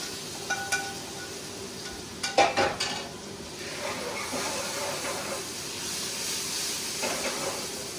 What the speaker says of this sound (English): Gonna put some apples in the pan.